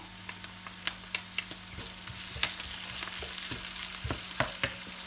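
Peppers and garlic sizzle in a hot pan with a steady frying hiss, broken by repeated scrapes and taps of a utensil stirring them.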